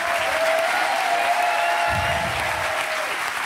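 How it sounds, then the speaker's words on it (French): Studio audience on a French TV game show applauding steadily, a continuous wash of clapping at moderate level, with a brief low rumble partway through. "Allez, applaudissements pour Jean-Michel Maire, magnifique."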